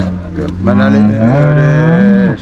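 A cow on a dairy farm lets out one long, loud, close moo that rises slightly in pitch before cutting off.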